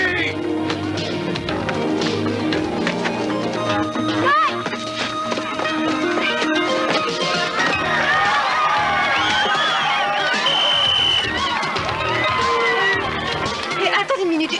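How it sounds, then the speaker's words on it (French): Crowd cheering and applauding at a children's sports match in a 1990s French TV show, with a steady wash of shouts and chatter filling the whole stretch, excited voices rising and falling throughout. "Pourquoi est-ce qu'on applaudit?"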